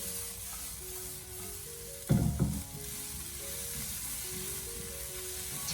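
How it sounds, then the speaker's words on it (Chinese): Green and red chili peppers stir-fried in a wok over high heat, with a constant hiss and one loud burst of scraping and tossing midway, then the sizzle settles back, close by with no talking. "然后再开大火把它翻炒一下，将其给它翻炒均匀，把青红辣椒炒出香味。"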